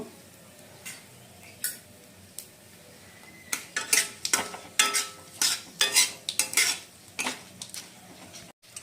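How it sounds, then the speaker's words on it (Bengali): Whole cumin seeds, dried chilli and a bay leaf frying in leftover fish-frying oil, a sharp crackling sizzle broken by repeated scraping and clinking of a utensil against the pan, close up. "মাছ ভাজার তেলেই ফোড়নের জন্য দিয়ে নিচ্ছি গোটা জিরা, শুকনো লঙ্কা আর তেজপাতা একটা"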